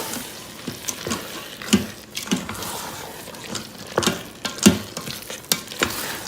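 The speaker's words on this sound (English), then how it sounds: "I'm going to stir it up." Black beans stirred in an Instant Pot, a spoon scraping and squelching through them in repeated strokes over a steady background sizzle, close and fairly loud.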